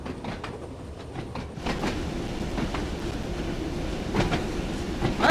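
A simulated train in Train Sim World 2 runs steadily with a rolling rumble and faint rhythmic clatter, continuous and moderately loud with no talk.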